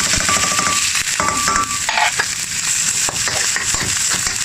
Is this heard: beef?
yes